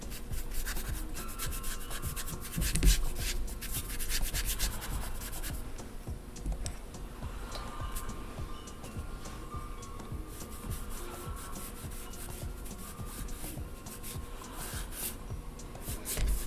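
A paintbrush rubs paint onto a mason jar in close, continuous dry scrubbing strokes that rasp along at an even pace for the whole stretch.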